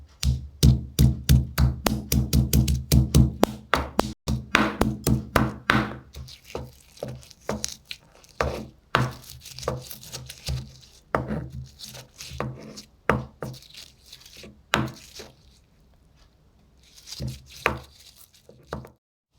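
Bird's eye chillies (kanthari) being crushed for a brinjal stir fry, a fast run of sharp, close knocks that slows into scattered irregular pounding with short pauses.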